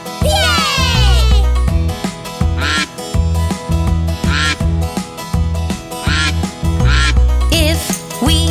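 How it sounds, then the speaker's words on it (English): Cartoon duck quacks repeatedly in a children's farm-animal song, loud and rhythmic over bouncy music with a kid's voice joining in. "If we hear the sound quack, quack, quack, quack, which animal could it be? A duck?"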